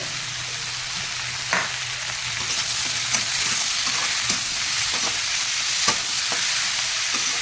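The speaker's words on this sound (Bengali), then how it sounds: "পাঁচ মিনিট ধরে একটু ভাজা হোক" Figs and diced potato fry in a pan with salt and turmeric, a steady broadband sizzle with occasional sharp clicks from stirring, close and alone with no voices.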